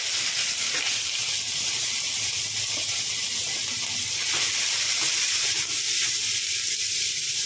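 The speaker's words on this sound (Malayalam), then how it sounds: "എണ്ണ നന്നായി ചൂടായിട്ടുണ്ട് അതിലേക്ക് അരിഞ്ഞു വെച്ച് സവാള ഇട്ട് കൊടുക്കുകയാണ്" Chopped onions dropped into hot oil in a pan give a loud, continuous close hiss and sizzle that barely varies over several seconds, with no talking.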